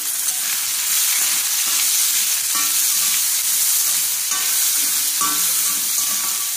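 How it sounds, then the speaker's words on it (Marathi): Onion frying in a pan alongside roasted bitter gourd with curry leaves, a steady loud sizzle with occasional stirring scrapes throughout, no talking. "कांदा, जरा छान असं भाजू दे।"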